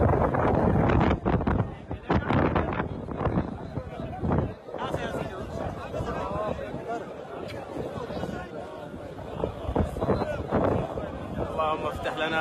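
Strong winds sweep through the Grand Mosque in Mecca during the sunset prayer, buffeting the microphone in loud, gusting bursts while people talk and a crowd murmurs nearby.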